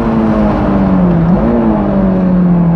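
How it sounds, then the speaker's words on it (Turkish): A stock Honda S2000 engine with no air filter revs on a race track, its steady, close drone climbing in pitch partway through. "S2000 olunca Vitek sesi dinlemek istiyorsun."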